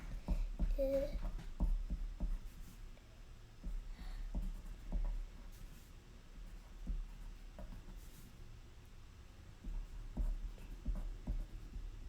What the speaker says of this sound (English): now tap it as you're writing it